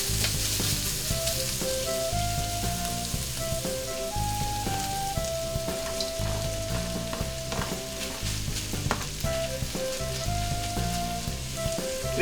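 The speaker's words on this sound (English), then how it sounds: "We'll give this a quick stir." Pancit noodles and vegetables stir-fried in a hot pan, a loud steady crackling sizzle with scraping stirs throughout, close up, with music playing underneath.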